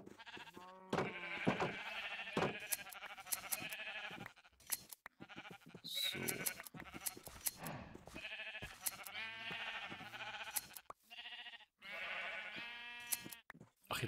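Minecraft sheep bleat repeatedly, several short wavering calls in quick succession, clear and close over a quiet game backdrop.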